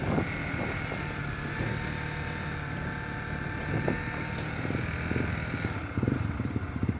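A motorcycle engine runs steadily up close on a busy street, its rough drone continuing with some bumps and clatter, with no talk over it.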